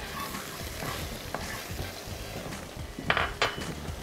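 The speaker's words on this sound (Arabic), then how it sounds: "هبتدي بقى اعمل الصوص. انا حطيت شويه زيت وبعدين معلقه ثوم مفروم" A spoonful of minced garlic frying in oil at the start of a sauce, with a continuous sizzle and stirring, plus a few sharp utensil clinks against the pan near the end.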